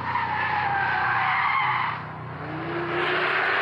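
A gendarmerie Alpine A110 works through the curves of the Dijon-Prenois racing circuit, its engine roaring loud and steady with tires squealing through the bend, dipping briefly before surging again.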